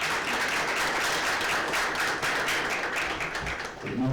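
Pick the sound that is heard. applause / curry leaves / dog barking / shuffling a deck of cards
applause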